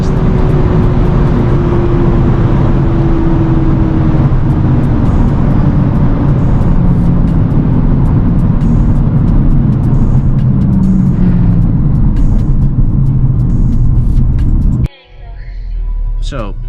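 A 2015 Mercedes-Benz A-Class with 184 hp accelerating hard, heard from inside as a loud, steady engine drone with rising tone and road roar, which cuts off abruptly near the end and gives way to a quieter cabin hum.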